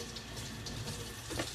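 Tap water runs steadily into a sink as fennel is rinsed under it, a close and even rush of water with no voices.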